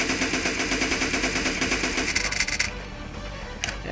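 Rapid automatic fire from an SLR rifle shot from the hip in a shooting video game, a dense stream of loud, close gunshots for nearly three seconds that stops abruptly, followed by quieter game ambience.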